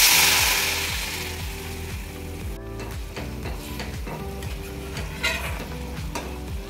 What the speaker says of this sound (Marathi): आता आपल्याला यात एकदम गरम उकळलेलं पाणी टाकायचं आहे आणि मिक्स करून घ्यायचं आहे.